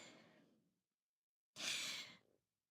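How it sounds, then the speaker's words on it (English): Two soft, close breaths alone in quiet: a fading exhale, a pause of silence, then a sharper, airy breath lasting under a second. "That breathing, though."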